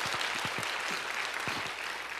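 A church congregation at a Sunday afternoon service applauds in a steady, continuous wash of many hands, moderately distant and without talk.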